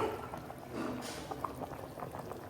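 An uncovered pot of fish curry simmers and bubbles at a quiet, steady pace, with soft gurgles and small pops close by and no voices.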